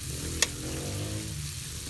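Mussels cooking in a pan with sautéed tomatoes give off a continuous low sizzle, with one sharp clink early on and no voices.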